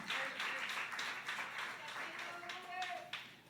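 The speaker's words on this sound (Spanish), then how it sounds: "Dale un aplauso al Señor" Congregation applauding during a church worship service, a steady wash of many hands clapping throughout, with sustained musical tones and some voices underneath.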